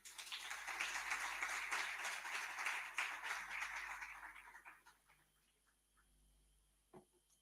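An audience applauds after a presentation, quiet, dense clapping that holds for several seconds, then thins and fades out, leaving a few scattered claps and one sharp knock near the end.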